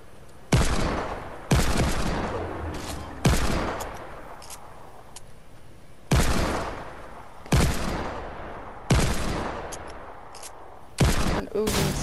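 Heavy video-game hand cannon fire: eight booming single shots spaced roughly one to two seconds apart, each with a long decaying tail, loud and close with no talking.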